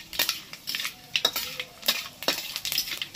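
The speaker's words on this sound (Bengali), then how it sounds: "এবার এটাকে ভেজে নেব।" Bay leaf, cinnamon and cardamom frying in a pan with panch phoron. Quiet, close crackle is broken by a steady run of spoon-on-pan scrapes and clinks.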